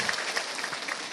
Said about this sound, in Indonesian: Tepuk tangan sekali lagi buat warga Cijati.